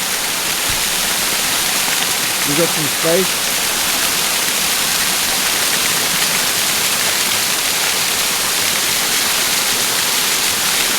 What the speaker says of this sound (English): That's the very top of the waterfall.